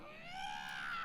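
Goblin scream from the video game Lord of the Rings Online (LOTRO), a single shrill, rising, strained shriek lasting about a second, heard alone.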